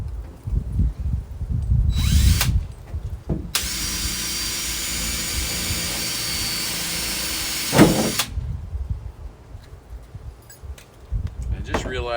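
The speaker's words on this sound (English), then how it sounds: "got my 1/8" bit. And we're going to make some pilot holes along here." Power drill with a 1/8 inch bit boring pilot holes around a van's rear driver-side door window: a high whine of about five seconds from a nearby drill, with short bursts before and after and some talk.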